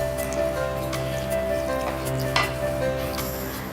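Chilly chicken bubbling in about a cup of water in a pan, a steady close sizzle and simmer running throughout with a few brief clicks, alone without talk.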